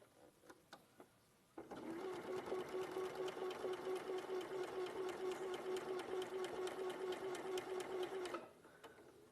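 A sewing machine runs steadily for about seven seconds with a fast, even mechanical whir, starting and stopping cleanly, close and fairly loud, with brief handling sounds before and after.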